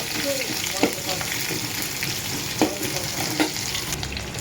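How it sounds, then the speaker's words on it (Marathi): Thickly chopped onion fries in a pan until it reddens, a continuous close crackling sizzle punctuated by a few sharp clicks of a spoon against the pan. "थोडंसं लालसर होऊ देते आणि मग पालक टाकते."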